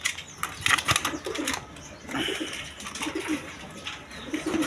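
Pigeons kept for sale coo in soft repeated bursts, close by, with a flutter of wings early on and faint chirps in the background.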